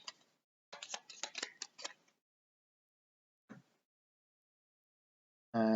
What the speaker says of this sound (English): then we shuffle the discard pile